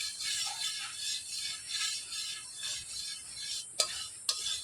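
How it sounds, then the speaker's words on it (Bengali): Ghee warming in a pan for coconut laddu is stirred with a spoon, giving a steady soft scraping hiss through the clip, with two brief sharp clinks of the utensil near the end. "নাড়াচাড়া করে ঘিটাকে এখন একটু হালকা করে গরম করে নেব।"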